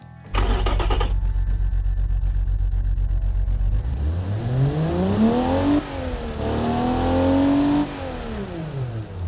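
Ford 300 cubic inch inline six from 1964, tuned with a different camshaft, revving toward a 6,000 RPM limit: a brief burst, then a rising whine that climbs, dips and climbs again, loud and close.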